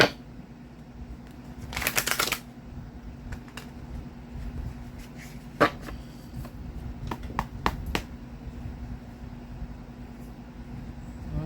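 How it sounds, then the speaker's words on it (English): Cards are riffled in a quick burst of fluttering snaps, followed by scattered soft clicks and taps as the deck is handled nearby. "Do one more shuffle, you guys."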